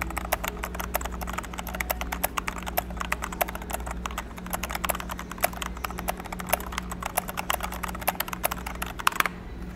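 Rapid, steady typing on a mechanical keyboard with Gateron switches, held close to a lavalier mic, with dense clicky keystrokes running continuously over a low background hum and no talking.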